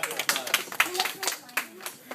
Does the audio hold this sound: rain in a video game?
no